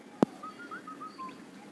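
A small sparrow chirps in light, scattered whistled notes at a moderate distance, with one sharp knock near the start and no voices.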